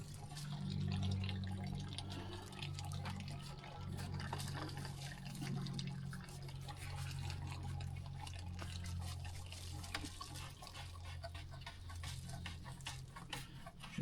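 Water trickles and drips as it fills the well inside a pump house set below the water level, a soft, close liquid patter with a low hum underneath.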